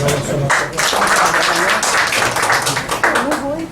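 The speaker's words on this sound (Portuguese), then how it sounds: "Uma salva de palmas para" Applause from an audience at a Lions Club study session, a dense burst of clapping that stays loud throughout, with voices mixed in.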